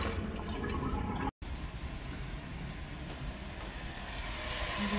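Tap water runs steadily while sweet potatoes are washed, a close, continuous rushing splash that cuts out for an instant and then resumes, growing slightly louder toward the end, with no voices.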